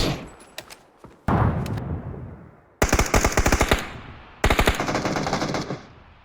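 Bursts of machine gun fire in PUBG on PC, loud and close: a short opening volley, then two sustained rapid strings of shots, each ringing out with a trailing echo between bursts.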